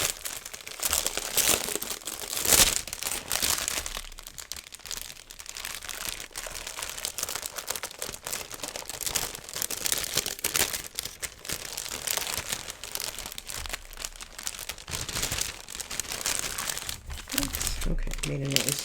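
Crinkling plastic packaging rustling and crackling up close as a Christmas-themed craft subscription box is opened, with continuous irregular crunches and tearing over nearly twenty seconds.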